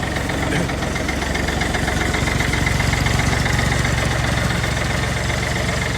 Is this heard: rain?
no